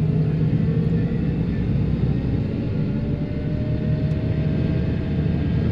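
A dirt machine's engine revs steadily, a loud continuous low rumble with a faint rising whine, close by and with no talk.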